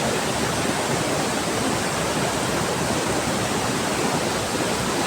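A strong river current rushes along a remote riverbank path, a dense, steady roar of flowing water filling the space close by, with no voices.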